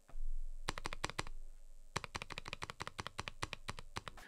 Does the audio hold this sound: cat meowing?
no